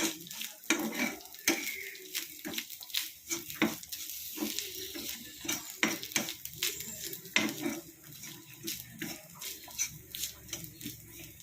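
Grated coconut roasts dry in a pan for jackfruit erissery, with a spoon repeatedly scraping and clanking against the metal in a steady irregular rhythm over a light crackle, close and fairly loud, no voices.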